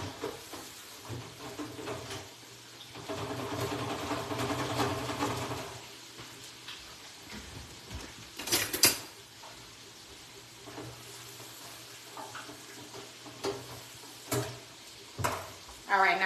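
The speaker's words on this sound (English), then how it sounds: "Let me toss these shrimp because this pan is about ready" Shrimp tossed in a hot frying pan while making lemon pepper shrimp alongside fried fish, a rushing sizzle swelling for a few seconds, then scattered clatters and bumps of the pan.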